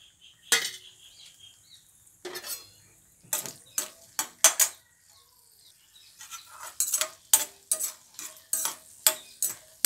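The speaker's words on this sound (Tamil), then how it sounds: "இது நம்ம இப்போ எண்ணெய் ஊற்றி வறுத்து காமிக்கிறேன்" Dried buttermilk chilies frying in hot oil in a pan, with a faint sizzle under repeated sharp clinks and scrapes of a spoon stirring against the metal, close and uneven in rhythm.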